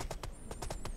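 A horse gallops in a VR video game, quick, rhythmic hoof clip-clops over about a second, fairly quiet, with a thin high electronic whine above them.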